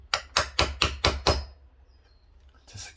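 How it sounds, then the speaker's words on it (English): A hammer drives a ball bearing into a wall anchor with six evenly spaced, sharp metallic blows in quick succession, close and clear, followed by quiet and one fainter knock at the end. "just going to use the actual hammer"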